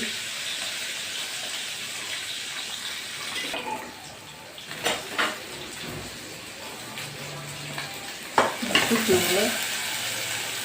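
Vegetables fry in hot oil for a curry, a loud, continuous hiss and crackle with occasional clattering stirs and knocks against the pan building toward the end.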